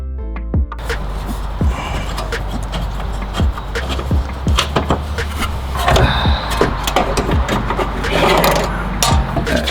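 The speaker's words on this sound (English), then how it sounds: "I'm going to use a flared nut wrench, 13mm. I'm gonna crack that nut." A 13mm flare nut wrench working a brake line nut loose on a 1999–2004 New Edge Mustang GT, with sharp metallic clicks, scrapes and knocks repeating irregularly over a steady low hum, close and fairly loud, no talking.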